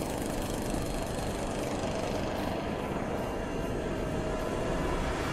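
Helicopter engine in the horror mod The Screecher for the video game Don't Starve, a continuous loud, even drone with a rotor-like hum that holds steady throughout, with no talk.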